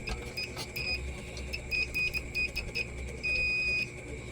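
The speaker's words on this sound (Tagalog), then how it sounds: "gamit lang ako ng buzzer tester" Faint electronic beeps from a continuity buzzer tester sound in short, irregular bursts, some brief and one held longer, over a quiet background hum, while testing an MMA welding inverter.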